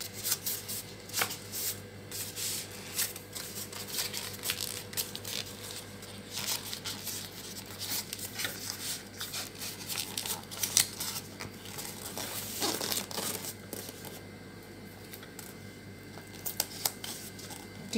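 Paper being folded for an art craft, close crisp crinkles, creases and rustles in irregular bursts throughout, with no talking.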